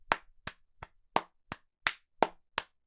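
Eight sharp, evenly spaced hand claps, close and crisp, made by a person imitating aggressive applause, alone without other sound.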